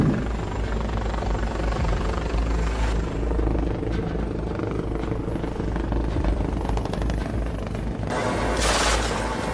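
A military helicopter flies overhead at sea, with a loud steady rotor thump and engine drone throughout and faint scattered bursts of gunfire as it returns fire.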